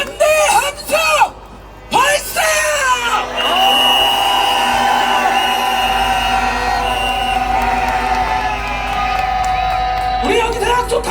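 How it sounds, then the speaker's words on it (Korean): A large crowd at a candlelight rally, held in memory of a Seoi Elementary School teacher, lets out a loud, sustained cheer and shout of solidarity for a teacher. The roar swells after a few brief voices at the start and holds for several seconds. "우리 윤영채 선생님께 연대의 함성 보내줍시다. 연대의 함성 발사!"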